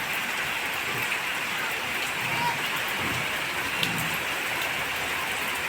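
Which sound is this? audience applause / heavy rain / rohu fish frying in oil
heavy rain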